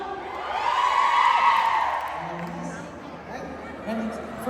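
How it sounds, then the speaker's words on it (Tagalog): Crowd screaming and cheering at a boy band concert held at the Philippine Embassy rises loudly and then tapers off while someone talks over a microphone. "Pwede marinig yung sigawan?"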